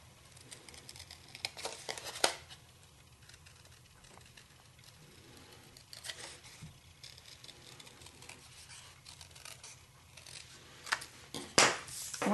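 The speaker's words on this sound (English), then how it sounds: "You now want to cut out your heart and you want to leave a small border of very vanilla around it." Scissors snip around a cardstock heart, with a few crisp cuts and light paper rustling between quieter pauses, up close.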